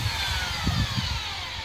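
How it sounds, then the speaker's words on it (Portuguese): An 8 mm drill bit grinds into car body sheet metal, drilling out spot welds on the front panel of a Fiat Strada/Palio; a brief, quiet burst of harsh, buzzing drilling. "Vou usar uma broquinha de 8 milímetros para soltar os pontos de solda."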